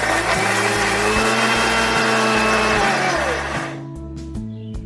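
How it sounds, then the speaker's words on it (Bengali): An electric mixer grinder whirs loudly and steadily as it grinds mustard seeds, poppy seeds and green chillies into a paste, then winds down and stops near the end. "আমি মিক্সচার মেশিনে 4 চামচ সর্ষে, 2 চামচ পোস্ত আর বেশ কয়েকটা কাঁচা লঙ্কা পেস্ট করে নিলাম"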